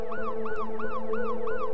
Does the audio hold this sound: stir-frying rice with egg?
no